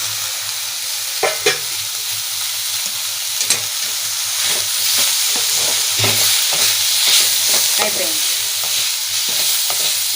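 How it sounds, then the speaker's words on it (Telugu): Onion and coriander frying in a pan while a spoon stirs, a steady sizzle running throughout with repeated scraping clicks of the utensil against the pan, close and clear with no talk. "ఇలా కలిపేస్తున్నాను."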